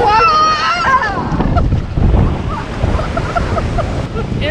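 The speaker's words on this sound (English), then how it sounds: "Watching the waves" Ocean waves wash onto the beach at Assateague Island, a steady broadband rush of surf with wind buffeting the microphone, while a voice speaks briefly near the start.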